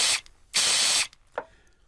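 Cartoon body spray hisses out in a loud burst, then in a longer sustained blast, followed by a short fainter puff, with no talk.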